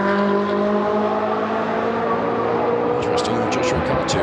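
A Ferrari Challenge race car at Monza howls at high revs as it finishes the Trofeo Pirelli race, a loud steady engine drone under continuous commentary.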